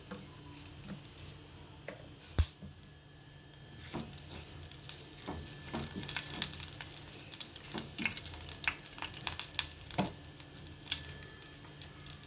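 Mustard seeds, urad dal and cumin fry in two spoons of oil, making a quiet sizzle dotted with scattered sharp pops and crackles from the spluttering seeds.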